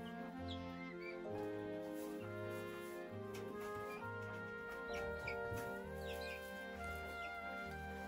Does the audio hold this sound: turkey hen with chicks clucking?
yes